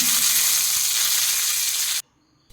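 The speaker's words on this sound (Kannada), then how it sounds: "ಚುರ್ರ ಅಂತ ಒಂದು ಒಗ್ಗರಣೆ ಕೊಟ್ಟೆ." Loud, steady sizzling crackle of curry leaves dropped into hot oil for tempering, continuous for about two seconds before cutting off abruptly into near silence.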